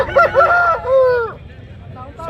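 A rooster crows once, close and loud, at a busy village poultry market selling cockerels in Pileru, with faint crowd murmur behind the call.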